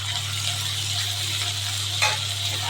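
Ground paste of ginger, garlic, chili and cumin fries steadily in a pan, a continuous close sizzle over a low steady hum, with a brief brighter flare near the end.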